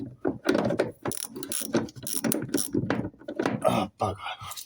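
The handbrake ratchet on an MGB gives a fast run of close mechanical clicks, moderately quiet. A voice talks intermittently over the clicking.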